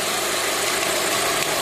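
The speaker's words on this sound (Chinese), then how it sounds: "这个声音，来自引擎" A car engine making a strange fault noise, a steady running drone with a faint rough knocking texture throughout, fairly loud and alone with no talking.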